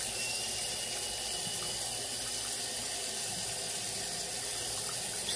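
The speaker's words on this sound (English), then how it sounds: "I'm just wetting my face first." Tap water runs steadily into a bathroom sink while someone wets their face, a constant close hiss and splash with no pauses or talk.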